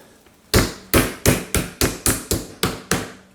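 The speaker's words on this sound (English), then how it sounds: "So I'm going to pound them down a bit." Chicken breasts are pounded thinner in a kitchen: nine sharp, heavy thuds in a steady rhythm, close and loud, with no talking.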